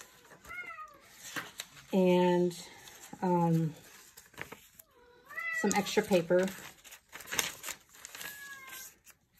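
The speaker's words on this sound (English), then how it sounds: "sorry about my cat, she's very vocal." A cat meows loudly several times, drawn-out cries interrupted by a person talking softly and the crinkle of paper nearby.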